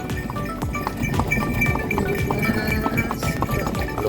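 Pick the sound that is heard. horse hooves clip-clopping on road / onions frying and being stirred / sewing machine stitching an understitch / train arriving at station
horse hooves clip-clopping on road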